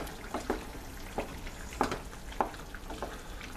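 Pepper being stirred into German goulash soup in a pot, soft wet scraping and clinking strokes at an uneven pace over a faint background simmer.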